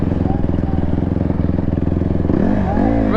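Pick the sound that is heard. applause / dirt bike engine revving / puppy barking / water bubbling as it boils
dirt bike engine revving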